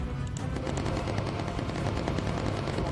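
Rapid, sustained machine-gun fire from a bomber gunner shooting incendiary rounds in the Bomber Crew video game, a dense, continuous clatter of shots with no voices.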